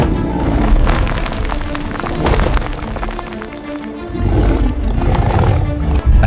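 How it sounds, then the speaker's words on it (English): A pursuing prehistoric creature roars from inside a cave, a loud, rumbling, sustained roar that surges twice over a dense, noisy background. "the roar of the pursuing creature sounds again"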